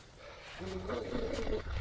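A dog snarls and growls as it attacks in the survival horror game Darkwood, a rough, throaty growl rising after a quiet start and continuing close and loud to the end.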